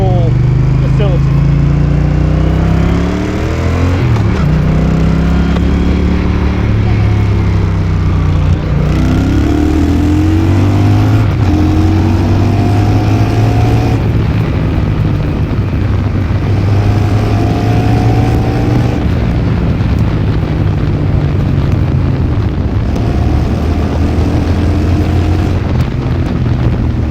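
A Honda Rebel 1100 motorcycle with a manual gearbox climbs uphill, its engine loud and close. The pitch rises and resets through repeated gear changes, with wind rush and a voice talking over the ride.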